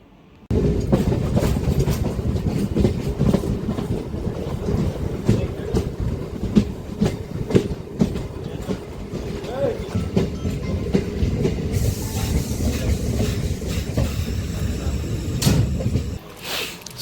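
A MEMU local passenger train pulls in at Morthad railway station platform, a loud, close, continuous rumble with clattering wheels and rattling carriages lasting about sixteen seconds before cutting off.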